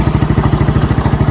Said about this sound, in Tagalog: Hindi ko pa pinatay yung motor para